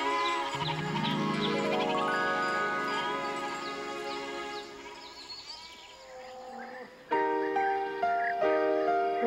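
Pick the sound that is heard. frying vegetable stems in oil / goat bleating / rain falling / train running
goat bleating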